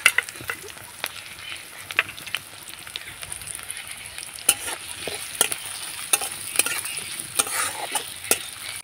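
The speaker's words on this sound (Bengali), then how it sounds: "ফোড়নের জন্য দিব 1/2 চামচ গোটা জিরে, আর 1 চামচ দিব আদা কুচি" Whole cumin, chopped ginger, green chilli and onion sizzling in hot oil for a tempering, stirred with a spoon that clacks against the pan in frequent sharp taps over a steady crackle, close and moderately loud.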